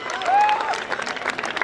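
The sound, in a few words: audience applause after dance performance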